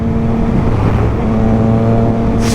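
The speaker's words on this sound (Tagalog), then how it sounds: "Triumph Trident with full system hard exhaust" A Triumph Trident 660 motorcycle with an inline-3 engine and full-system exhaust gives a loud, steady, deep engine drone up close, holding a constant pitch for the whole moment.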